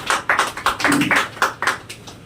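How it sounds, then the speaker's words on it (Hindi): A seminar audience at a business meeting gives a short burst of clapping, sharp uneven claps in quick succession that rise and fall over about two seconds, close and fairly loud, with no speech over them. "एक बार जोरदार तालियां"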